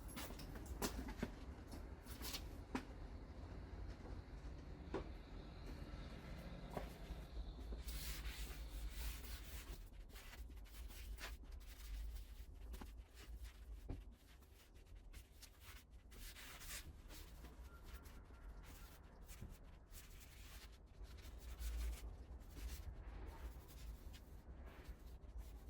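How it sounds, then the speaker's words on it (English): Primer on a 2004 Dodge Ram 1500 body is block sanded by hand with 320 grit paper, making a steady, faint scratchy rubbing that continues with a few sharper strokes and brief pauses throughout, with no talk. "we can start sanding this primer"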